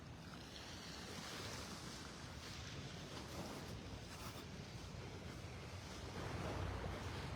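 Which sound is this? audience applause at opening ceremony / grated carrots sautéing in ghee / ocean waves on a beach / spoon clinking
ocean waves on a beach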